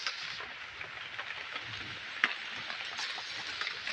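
Rain falls steadily outdoors beneath a makeshift shelter of anahaw palm leaf propped on a banana tree, a soft continuous hiss with a few sharper drop hits, no one speaking.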